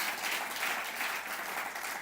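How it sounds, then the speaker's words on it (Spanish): A church congregation claps together in steady, dense applause that fills the whole short stretch at an even level, with no break and no voices standing out. "Creo que Él merece un aplauso."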